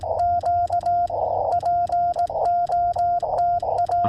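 A steady CW Morse tone keyed on a tiny straight key during an outdoor radio session, sounding as a clear, loud beeping of short and long dits and dahs in an uneven rhythm.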